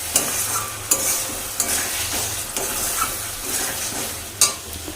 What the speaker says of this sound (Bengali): মশলা আলুটা কষাচ্ছি